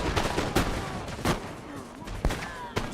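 Musket volleys in a battle in the video game Empire: Total War, with sharp separate shots and crackling bursts of gunfire popping at irregular intervals over a dull battlefield din.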